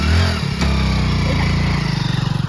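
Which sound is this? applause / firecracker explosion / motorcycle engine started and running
motorcycle engine started and running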